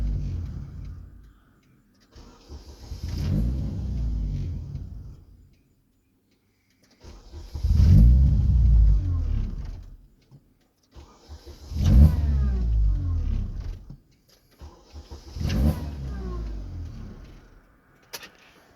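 A Chevy Cobalt with a no-start fault cranks in four separate bursts of a few seconds each, with pauses between them. The starter and engine whir sounds close and loud, and no one speaks.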